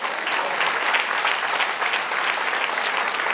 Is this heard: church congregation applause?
yes